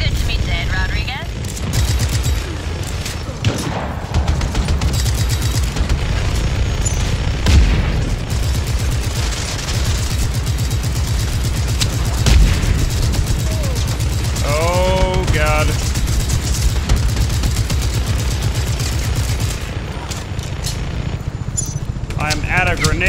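Continuous chaotic combat in Just Cause 3, with booming explosions and rattling gunfire layered densely throughout, loud and unbroken, with brief voice fragments in the mix.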